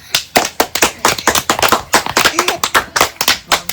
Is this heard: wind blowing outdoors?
no